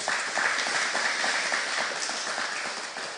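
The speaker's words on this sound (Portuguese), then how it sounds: "Aplauda ao Senhor, aleluia" A church congregation claps steadily, a dense rolling patter of many hands that carries on for a few seconds without pause.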